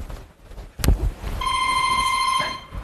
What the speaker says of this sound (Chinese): 接个电话啊。